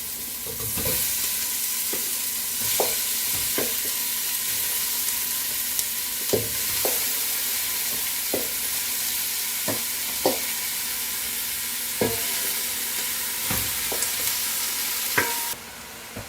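Pork pieces sizzle in a pan with onion while a utensil stirs them, a steady close frying hiss punctuated by regular scraping knocks every second or so.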